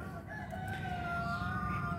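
An Australorp rooster crows in one drawn-out, tonal call that rises and wavers, set against a steady, noisy outdoor background with no talking.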